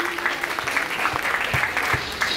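Loud audience applause at a live mimicry comedy show, steady and dense clapping from a crowd lasting the whole short stretch, with no talk over it.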